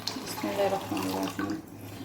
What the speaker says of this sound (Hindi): ये मैं 1 लीटर पानी का डाल दूंगी इसमें।